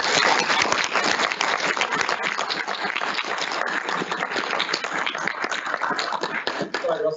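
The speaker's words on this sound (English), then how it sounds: "Can we give a big round of applause?" An audience applauds at a Walker Institute and Microsoft UK climate resilience event, with dense, sustained clapping lasting several seconds at close range and a voice speaking over it toward the end.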